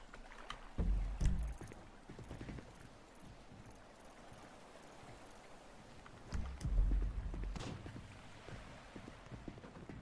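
A boat driven in a video game, with a steady engine and water wash under repeated bright metallic chimes and a couple of heavier thuds and splashes, the loudest near the start and middle.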